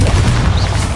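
A Bombarda explosion spell goes off in Hogwarts Legacy, a loud, sustained low boom that fills the whole second amid the clamor of combat.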